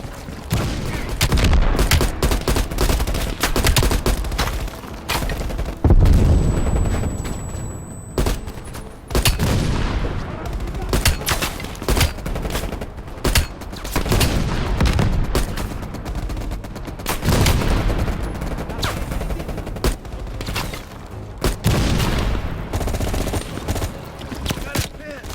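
AA gun fire in Call of Duty Black Ops Cold War pounds as dense, loud bursts of rapid gunfire and booms for about 25 seconds, with shouted voices at times over the battle.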